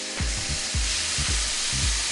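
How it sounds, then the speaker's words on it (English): Steaks sizzle on a Ninja Foodi Grill XL, a loud, constant frying hiss heard close, with soft repeated thumps as the meat is set down and handled. "Hear that sizzle."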